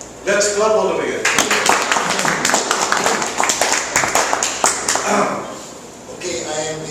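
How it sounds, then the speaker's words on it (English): An audience at a Toastmasters club meeting claps in a burst of sharp, dense hand claps that starts after a short spoken lead-in and runs for several seconds before fading into more talk. "Let's clap all the way."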